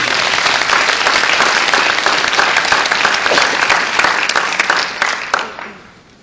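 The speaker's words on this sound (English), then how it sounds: "you go ahead and applaud that" Loud, sustained audience applause fills a motivational speaking event in Columbus, Ohio, with dense clapping that carries on steadily for several seconds before fading away at the end.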